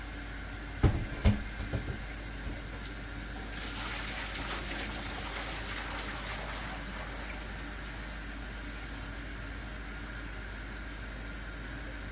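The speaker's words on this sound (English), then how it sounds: "And then we'll put fresh water in it." A couple of sharp knocks give way to a steady rush of tap water pouring into a pot, continuous and fairly close.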